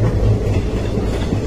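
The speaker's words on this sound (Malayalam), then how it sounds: "നമ്മൾ കോയമ്പത്തൂരിൽ നിന്ന് മേട്ടുപ്പാളയത്തേക്കുള്ള ട്രെയിനിലാണ് ഇപ്പോൾ കയറിയിട്ടുള്ളത്" Onboard a passenger train running from Coimbatore to Mettupalayam, a loud low rumble with rhythmic wheel clatter and a droning hum fills the short stretch, with no voices.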